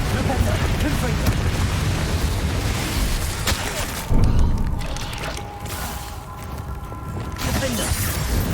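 Booming fire-spell blasts from the Confringo curse in the Hogwarts Legacy video game during a dragon battle, a loud burst near the four-second mark set within a dense, continuous roar of battle effects.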